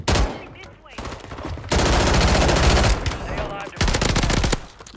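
HRM-9 gunfire from Call of Duty MWIII on Rebirth Island, loud rapid automatic bursts in several long stretches separated by brief pauses, with faint talk underneath.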